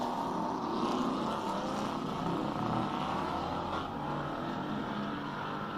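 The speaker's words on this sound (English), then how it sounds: "car number 60, James Temple, in the Terlinger Ford, 5-litre, 8-cylinder." Ford Mustang 5-litre V8 race car at the Simola hillclimb, a deep continuous engine roar heard from a distance, steady and loud without speech.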